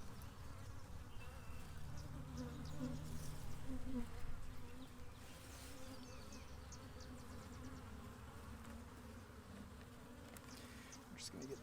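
Honeybees buzz steadily in an open hive during a queen-acceptance inspection, a dense, continuous drone swelling slightly in the middle and holding at a close, even level throughout.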